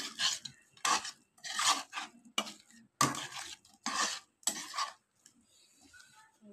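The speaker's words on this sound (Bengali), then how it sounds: "এটাকে আবারও আমি ভালো করে নাড়িয়ে চাড়িয়ে" Ginger-garlic paste stirred in a pan while cooking an egg and potato curry, a spatula scraping in roughly seven short, rhythmic bursts with soft sizzling between them, close and alone.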